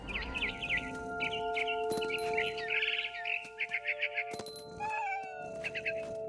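Game cat from What Remains of Edith Finch meows and caterwauls repeatedly in close, strained cries over a steady musical drone, with bird chirps sounding in between.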